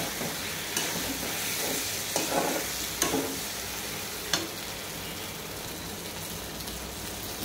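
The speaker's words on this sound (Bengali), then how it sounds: "আর একবার ভালো করে নাড়াচাড়া করে ভাজা ভাজা করে নেব।" Spices and fried taro stirred in a hot pan for a pangas fish curry, a dense continuous sizzle with a few scattered scrapes and knocks of the spatula, close up and with no talking.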